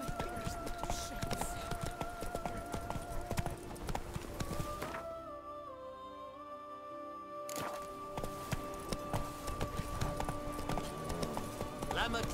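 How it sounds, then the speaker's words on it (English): A horse gallops in The Witcher 3 with steady, rapid hoofbeats under sustained in-game music tones, and the hooves briefly soften midway before the fast rhythm resumes. "Run, Roach. Giddy up."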